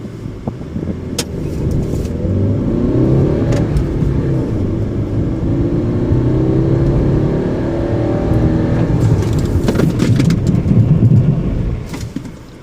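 A Maruti Suzuki S-Cross engine roars loudly and steadily for several seconds, revving hard with rising and falling tones under hard acceleration before easing off near the end as it brakes.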